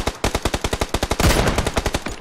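Loud, rapid automatic gunfire from a team video game match: a steady stream of evenly spaced shots, briefly merging into a denser burst midway, then continuing in quick succession with no talking.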